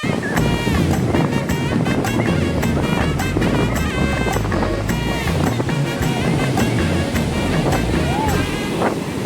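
Rough, fairly high waves break on a beach, a loud continuous wash of surf mixed with wind buffeting the microphone, with voices audible over it.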